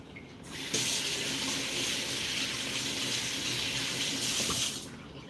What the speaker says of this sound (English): So I'm going to wash my hands first.